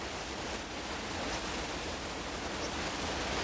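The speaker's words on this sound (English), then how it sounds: "the ever-present thunder of rushing water" The Dudh Kosi river below Everest roars with relentless whitewater, falls and haystack waves, a dense, loud, unbroken rushing wash filling the whole clip with no voices.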